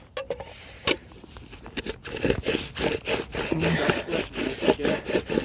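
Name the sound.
grinding pineapple and banana boilies into crumb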